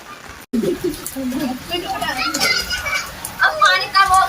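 Small children bathing and playing outdoors in the rain, their lively, overlapping voices shouting and chattering close by throughout, with a brief silent gap near the start.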